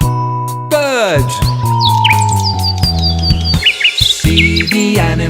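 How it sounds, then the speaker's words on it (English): Bright, rapid bird chirps and tweets ring out alongside a cheerful children's song with singing, the calls loud and close as quick repeated notes over the music. "It's a bird."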